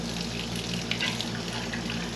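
Water runs from a newly installed RV sink faucet in a steady, close hiss and splash into the basin, with a low mechanical hum underneath throughout and no talk.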